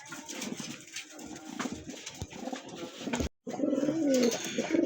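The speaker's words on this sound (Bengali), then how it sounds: "দেখেন কবুতরগুলো কিন্তু খুবই সুন্দর চমৎকার" Pigeons coo steadily at close range in a market setting, a layered murmur of throaty calls with a brief dropout near the end before the cooing resumes.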